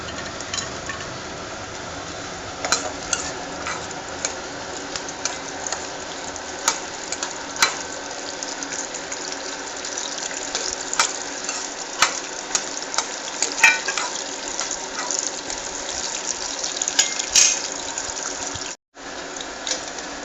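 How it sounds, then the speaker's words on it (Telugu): Cashew nuts frying in ghee for a jackfruit halwa, a continuous close sizzle punctuated by regular spoon taps and scrapes against the pan, with a brief dropout near the end and no talking. "ఇది జీడిపప్పు వేపుతున్నాను అన్నమాట ఫ్రెండ్స్."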